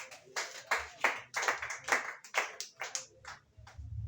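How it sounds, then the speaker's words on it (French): A church congregation claps in a steady rhythm during a worship service, about a dozen crisp claps at moderate distance with no voices. "Acclamez Jésus-Christ"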